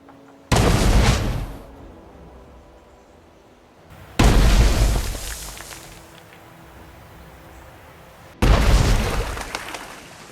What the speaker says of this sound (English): clicking the middle mouse button will cause an explosion to happen